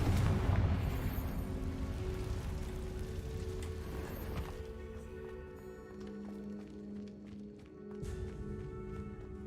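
In Hogwarts Legacy, a Confringo spell sets off a loud, rumbling blast inside a cave. The heavy explosion opens the sound, then fades into a long rolling roar with scattered debris clatter.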